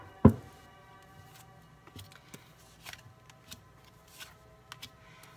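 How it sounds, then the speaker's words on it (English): Tarot cards being handled and picked up: one sharp snap near the start, then scattered soft taps, slides and clicks from the cards, quiet and close, with no talking. "I'm having trouble picking up these cards."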